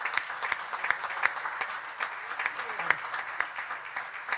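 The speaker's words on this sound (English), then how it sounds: "applaud for Laura Thomas" An audience at a city council meeting applauds a retiring employee, producing continuous, moderately loud clapping that holds steady throughout.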